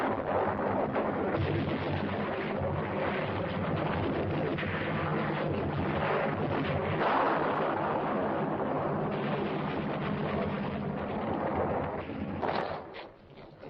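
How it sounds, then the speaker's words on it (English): Navy and Marine aircraft strafing with rockets and napalm over Korean hills make a dense, continuous roar of blasts and gunfire rumbling near and loud throughout, easing slightly near the end. "Navy air comes strafing. And Marine air with rockets and napalm to burn them out."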